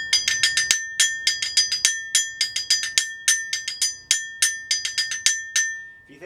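Bright metallic kane hand gong struck in quick repeated bursts of six strokes, a clipped rhythmic taiko pattern ringing with sharp attacks and short decays.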